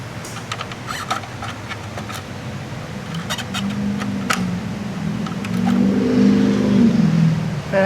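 A pickup truck accelerates and revs as it passes on a busy street, its engine note rising and swelling louder over a few seconds, with sharp clicks and rattles nearby.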